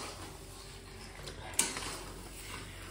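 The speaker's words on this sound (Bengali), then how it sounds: "কষো ভালো করে কষো।" Pieces of meat stir-fried in a pan for kosha, a soft steady sizzle with faint scraping and one sharp clink of utensil on the pan, quiet and close.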